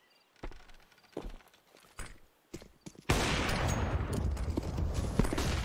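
Gunshots in CS:GO on the Inferno map during a ViCi versus Renegades esports match: several sharp separate shots and thuds, then a sustained loud burst of gunfire and impact noise.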